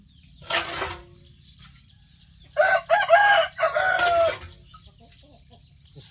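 A rooster crows loudly and close by on a rural farm, one long wavering call following a shorter squawk, over a steady low background hum.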